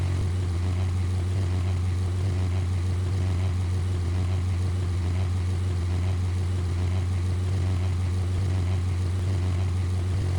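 A light propeller aircraft taxis in the Roblox flight game PTFS, its engine droning steadily at low power with a constant hum and no pauses.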